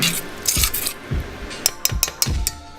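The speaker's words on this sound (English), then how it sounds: "Just use my spoon to stir." A spoon stirs eggplant and pork stew in a metal pot, producing a series of close scraping clinks and knocks, a few sharp taps toward the end, with no talking.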